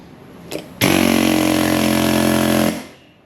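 A pneumatic air chisel hammers into the rubber of a work boot with a harsh, steady buzzing rattle for about two seconds after a brief blip, loud and close, then cuts off.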